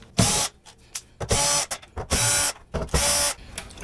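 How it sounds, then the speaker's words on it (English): An Allen&Heath ZED10 FX mixer has its hex screws backed out, giving several short bursts of whirring, ratcheting driver noise separated by brief pauses, close and fairly loud. "Let's take out the screws."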